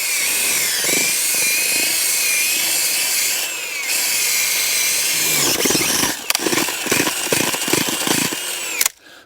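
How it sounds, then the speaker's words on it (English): A motorized earth auger whines steadily, then grinds and lurches in uneven bursts as it drills a planting hole into soil, ending with an abrupt cutoff. "So all I do now is with this earth auger,"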